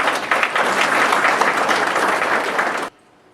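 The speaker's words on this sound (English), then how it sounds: "Shall we give Mr. Kojana a round of applause?" Dense applause from an audience at a teacher centre management training event fills the room steadily for about three seconds, then stops abruptly into near silence.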